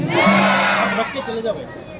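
A crowd at a Janmashtami celebration in Janakpuri roars back a devotional call-and-response chant, a loud burst of many voices shouting together that fades into scattered cries.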